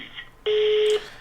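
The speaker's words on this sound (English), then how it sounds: "Record your message at the tone." A voicemail recording beep sounds as a single clean, steady electronic tone lasting about half a second, loud against a quiet line hiss.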